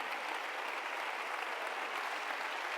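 Church congregation applauding, a steady, even wash of many hands clapping at moderate distance, continuous without breaks or voices standing out.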